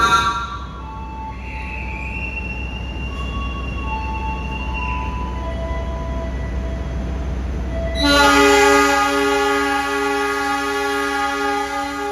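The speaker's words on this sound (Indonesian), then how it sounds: "yang telah masuk di jalur 5 peron utara adalah rangkaian kereta api Taksaka" The Taksaka passenger train arriving at a platform at Yogyakarta station, with steady loud rolling rumble and high squealing tones, then a loud multi-tone locomotive horn sounding close for the last few seconds.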